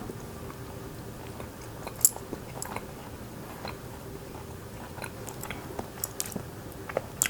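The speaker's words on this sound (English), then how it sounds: "let's try this. These little dried squids. So these are thinly cut up," Close, quiet crunching and chewing of thin-cut dried squid, with small irregular bites and soft mouth sounds over a low background hum.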